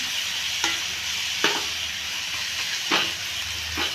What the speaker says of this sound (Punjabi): ਇਹਨਾਂ ਨੂੰ ਚੰਗੀ ਤਰ੍ਹਾਂ ਵਿੱਚ ਮਿਲਾ ਕੇ ਦੋ ਕੁ ਮਿੰਟ ਲਈ ਪਕਾਵਾਂਗੇ ਹਾਂਜੀ ਤੇ ਵੀ ਆਪਾਂ ਮਸਾਲੇ ਦੇ ਵਿੱਚ ਹੀ ਭੁੰਨਨੇ ਆ